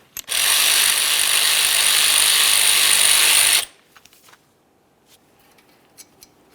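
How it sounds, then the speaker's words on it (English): A ratchet spins out the 14mm lower caliper slider bolt on the front brakes of a 2013-2015 Chevrolet Malibu, a loud, steady rapid clicking for about three seconds, followed by a few faint metallic handling taps. "and then fully remove the lower bolt."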